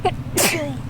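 A single sharp sneeze erupts close by, a quick inhale followed by a bright, forceful burst that trails off within a second.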